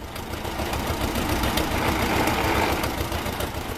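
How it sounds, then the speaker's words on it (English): An Allis Chalmers WC tractor engine running, a steady rough chugging with rapid irregular knocks, fairly close and heard alone. "the greatest tractor of all time,"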